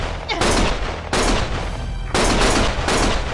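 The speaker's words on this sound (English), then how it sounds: "Stop shooting!" Gunfire from the video game Lost Judgment erupts in several loud, dense bursts, close and sharp, with brief gaps between volleys.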